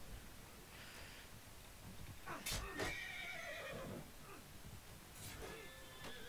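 Several horses whinny in the Mount & Blade 2 Bannerlord video game, with two or three distinct neighs rising over a quiet background of hooves and rustling.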